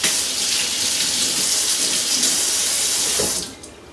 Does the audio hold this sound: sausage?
no